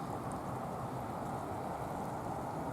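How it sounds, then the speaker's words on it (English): Rain falls outdoors as a steady, even hiss with no breaks, faint and constant throughout. "this rain feels great"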